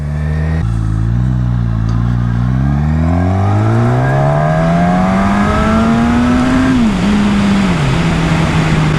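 A 2020 Suzuki Katana motorcycle with about 150 horsepower accelerates hard, its engine note climbing steadily through the gears with brief dips at the shifts, loud and close throughout.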